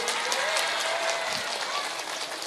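An audience at a religious talk claps steadily, a dense, even patter of applause throughout the short stretch with a voice faintly underneath.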